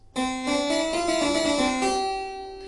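A short, bright harpsichord phrase from a Bach excerpt plays alone, with quick triplet ornamental notes slipping between the main tones before it settles onto a held note.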